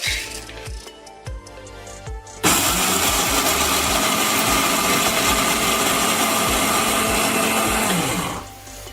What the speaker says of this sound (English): to grind this one, you can use either your dry grinder or you can use the wet one as well